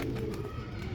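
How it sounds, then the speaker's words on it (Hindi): Soft, low pigeon cooing from a white pigeon kept by a fancier, a steady murmuring coo held close and continuous through the brief moment with no talk. "बहुत ही अच्छा कबूतर है माशाल्लाह भाई।"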